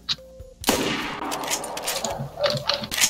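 Gunfire in the survival video game DayZ comes as a sharp loud shot followed by a long echoing rumble and further reports, moderately close, with faint game ambience around it.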